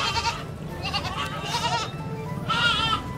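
A goat bleats repeatedly, several wavering calls close by, separated by short pauses with a faint rustle underneath.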